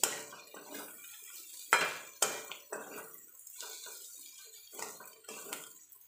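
Coriander is stirred into tomato chutney in a pan, with a spatula clinking and scraping against the metal in irregular strokes and a soft sizzle beneath.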